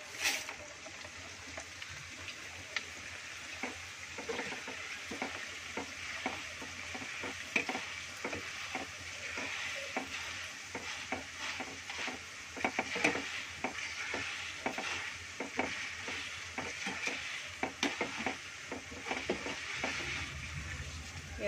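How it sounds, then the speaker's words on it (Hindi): Corn kernels fry in oil in a kadhai, a steady soft sizzle under frequent rhythmic scrapes and taps of a stirring spoon, heard close and alone. "अब हम एक कढ़ाई में तेल लेंगे और मकाई को फ्राई करेंगे"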